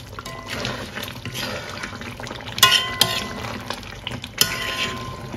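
Chicken for Surinamese pomtayer bubbles and simmers in a pot, a steady soft burbling with occasional sharper pops and a clink of the pot, close by.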